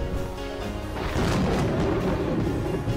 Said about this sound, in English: Why is there thunder?